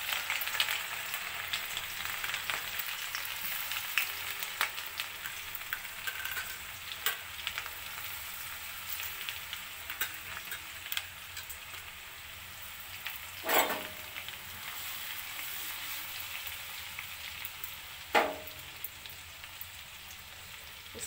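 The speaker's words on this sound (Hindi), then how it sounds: "अब मैं फटाफट से इसमें लहसुन और अदरक का पेस्ट डाल देती हूँ।" Garlic and ginger paste fries in hot ghee with cumin seeds, giving a steady, fairly quiet sizzle throughout, broken by a couple of brief clinks near the end.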